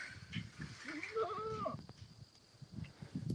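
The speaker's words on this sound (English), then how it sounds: "the goats are going to come back out" Goats and sheep move out through an opened farm gate, with a few bleating calls mid-way over shuffling hooves and background rustle, fairly close and moderately loud.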